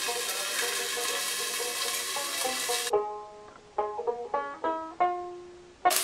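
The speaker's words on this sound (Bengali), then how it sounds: "গাজরগুলোকে আমার ভাজতে দিতে হবে" Carrots and peas fry in a pan, a steady close sizzle for about three seconds before it cuts off abruptly, leaving a few sparse tonal notes.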